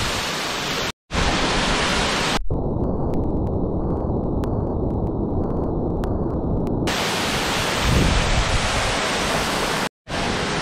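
Alpine waterfall at Lake Serene roaring as a steady, loud broadband rush that fills the whole clip, broken by two brief dropouts.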